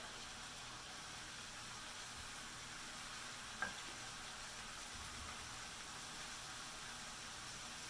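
Bulgogi beef frying in a pan as a ramen topping, giving a steady broad hiss of sizzling with one brief clink midway, fairly faint and alone with no talk.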